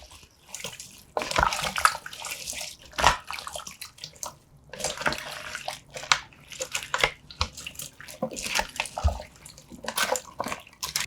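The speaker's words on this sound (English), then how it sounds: "Give it a good stir." Vegan turnip curry with plenty of liquid being stirred in a pot, giving sloshing, splashing wet sounds in bursts with brief pauses, fairly close and alone without talk.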